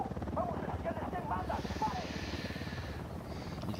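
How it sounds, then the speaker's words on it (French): A helicopter from the Unidad faction approaches in the video game Ghost Recon Wildlands, a rhythmic rotor chop running steadily at moderate level beneath someone talking. "Hélico de l'unidad en approche"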